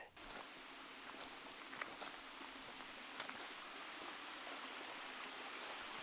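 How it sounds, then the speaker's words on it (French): A soft, steady rush of a 115-metre waterfall in eastern Senegal fills the background, fairly faint, with a few light scuffs and clicks on top. "La cascade, t'as dit, elle fait 115 mètres hauteur."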